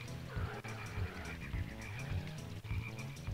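Frogs in the Diddy Kong Racing video game croak repeatedly in a fast, regular rhythm, the cartoonish croaks layered over steady game music and engine hum.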